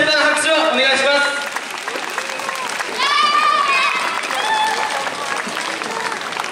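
An audience at a dance festival applauds steadily in a continuous wash of clapping, with a voice speaking over it and occasional cheers.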